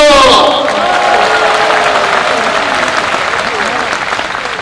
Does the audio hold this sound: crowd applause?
yes